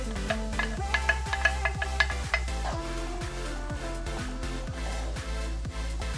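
Sweet peppers, onion, scallion and Scotch bonnet fry in a pan with a steady sizzle, while a utensil stirs with repeated scraping strokes, close and fairly loud.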